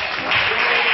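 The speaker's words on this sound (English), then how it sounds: "And just one more time, clap your hands." A church congregation claps together during a sing-along, a short burst of loud, dense hand-clapping that fills the room.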